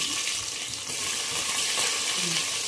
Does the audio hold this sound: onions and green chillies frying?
yes